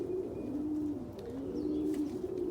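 Reverse wing pouter pigeons coo in low, rolling, repeated phrases, steady and fairly close, over a faint background hum, with no one speaking.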